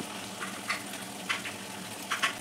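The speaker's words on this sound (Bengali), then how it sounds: "হালকা নাড়াচাড়া করে একটু ভেজে নিতে হবে।" Chilli mushroom frying in a wok with onion petals, tomato sauce, green chilli sauce and soy sauce gives a steady close sizzle, broken by a few short bursts of stirring.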